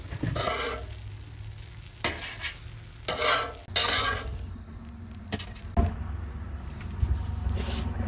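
Eggplant steaks topped with white American cheese sizzle on a camping grill, a quiet frying hiss broken by several sharp scraping and clattering bursts as pieces are lifted off.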